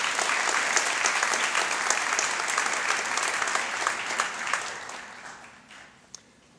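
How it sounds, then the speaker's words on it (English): A round of applause from the audience at a 2019 honor society ceremony, dense steady clapping from many hands that holds for several seconds, then fades out with a last stray clap. "Let's give them a round of applause."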